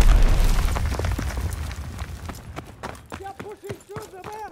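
Enemy mortar fire in a Call of Duty match lands as a heavy, rumbling explosion that swells at first and slowly fades, followed by a voice speaking over the dying rumble.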